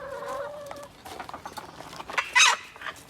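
Backyard chicken-yard hens cluck and murmur close by in short, uneven bursts, with one sharp squawk standing out near the end over quiet rustling.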